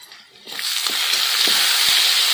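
Chicken pieces hit a pan of hot oil with onions already fried red-brown, and a loud, continuous sizzle starts suddenly and keeps going, with faint stirring scrapes.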